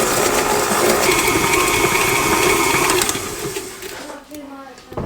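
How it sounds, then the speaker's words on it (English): Electric mixer creaming butter and sugar in a home kitchen, a steady whirring motor hum that runs loud for about three seconds, then drops off and fades as the mixer winds down. "We'll go over to the mixer."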